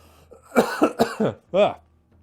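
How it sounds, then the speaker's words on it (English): A string of several close, sharp coughs and throat-clearing bursts from a single person, loud and dry against a quiet background hum. "Naughty cough."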